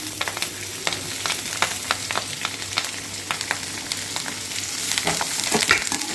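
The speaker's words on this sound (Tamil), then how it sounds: "வெங்காயம் போட்டு பொன்னிறமாக வதக்கிட்டு" Onions sautéing in oil with curry leaves until golden, a close, continuous crackling sizzle broken by frequent sharp scrapes and taps of a spatula stirring in the pan.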